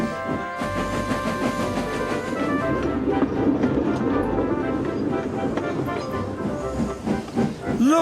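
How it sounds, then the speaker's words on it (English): A steam engine in the Trainz video game chuffs gently into a station with hissing steam and rolling wagon noise, a steady wash of sound under background music, with a voice briefly present. "They chuffed gently into the station."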